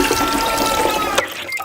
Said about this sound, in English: Now let's try flushing away this Lego man.